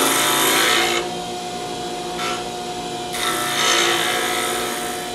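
A skew chisel cuts a wooden spindle turning on a lathe, a close, steady scraping hiss that drops away briefly and swells back, with the machine's constant hum beneath.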